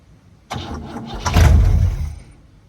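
A 1959 Cadillac engine cranks briefly, then catches and fires with a loud, rough surge that fades after about a second, close by with no talk.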